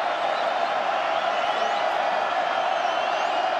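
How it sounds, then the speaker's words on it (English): Roaring crowd at a college football game between Wake Forest and NC State at Carter-Finley Stadium, a dense sustained wall of cheering and whooping with voices mixed throughout. "Crowd does get awful loud at Carter-Finley Stadium."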